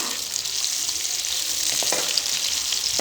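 Finely chopped onion and a green chilli frying in a pan for aloo ki bhujia, a steady close sizzle with faint stirring scrapes and no voices.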